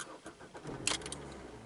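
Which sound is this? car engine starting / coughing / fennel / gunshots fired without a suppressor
car engine starting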